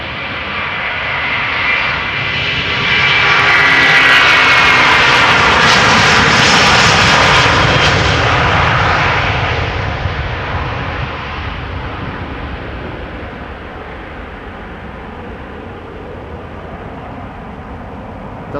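A Delta Air Lines jet about 20 years old, first flown in 2003, passes at Amsterdam Schiphol Airport, its engine roar building to a loud peak, then slowly fading into a lingering rumble.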